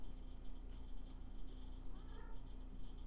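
A cat gives a couple of soft meows indoors, fairly faint over a steady low background hum, with no talking.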